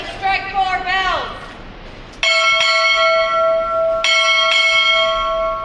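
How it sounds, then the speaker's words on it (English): Four ship's bells struck at a Navy recruit graduation ceremony ring out in two close pairs, each a bright, clear clang with long ringing decay, following a spoken command in a large hall. "Time orderly, strike 4 bells."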